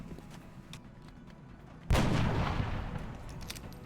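Sniper rifle shot fired in the XCOM Enemy Within video game, a single loud, sharp boom that rings out and decays slowly over rumbling background game sound.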